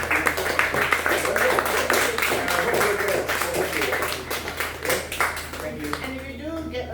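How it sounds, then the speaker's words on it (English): Book launch audience applauds author Rowena, a lively burst of close clapping from a modest crowd that tapers off toward the end, with voices speaking over and after it. "can we give Rowena a big round of applause"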